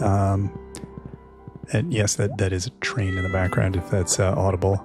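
A cat in the video game Stardew Valley meows a few times, heard under a person talking continuously in the foreground.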